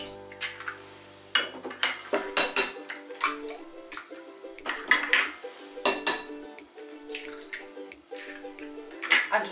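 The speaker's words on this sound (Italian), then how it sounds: "Andiamo a rompere in questa ciotola le uova." Eggs are cracked into a bowl in a home kitchen, making a run of sharp clinks and taps against the bowl with small wet knocks between them. The sounds are close and irregular, and no one speaks.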